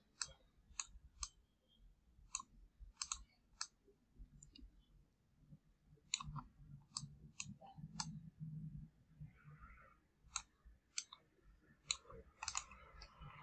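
Computer mouse clicks while working in a Canva design, sharp isolated clicks in small clusters and pairs across the span, close and quiet over low room hum.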